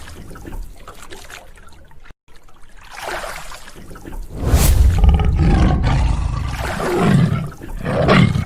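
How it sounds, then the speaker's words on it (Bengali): A tiger roars in the Sundarbans mangrove forest, with deep, loud, drawn-out growling roars swelling several times near a boat on the water, preceded by quieter rustling and splashing. "দুই পাশেই বাঘ আছে"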